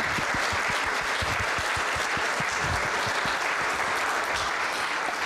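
A community safety meeting audience claps steadily for a police sergeant, dense and close applause filling the whole moment without talk.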